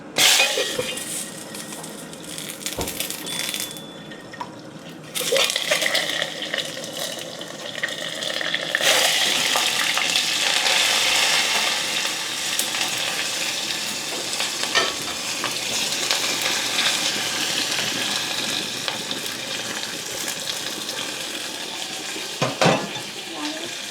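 Potatoes and curry leaves hit hot oil with asafoetida and mustard seeds in a home kitchen, giving a steady, close sizzle with stirring scrapes and a few louder clatters throughout.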